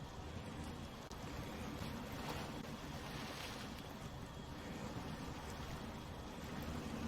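An off-road truck in the SnowRunner game, Wisconsin map, pushes through deep water, giving a steady, loud rushing wash of splashing and churning water with a low rumbling undertone throughout.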